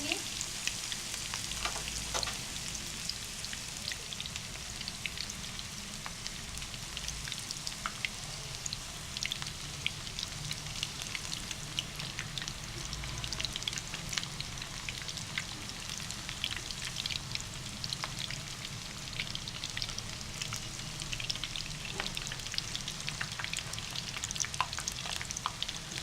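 Beef seekh kababs fry in oil over low heat with a soft, continuous crackle and sizzle, full of fine popping bursts, close but fairly quiet, with no talking.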